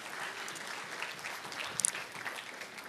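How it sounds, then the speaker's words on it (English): A room full of people applauding, a steady dense patter of clapping at moderate volume. "Give them a warm round of applause and welcome as they come to the stage."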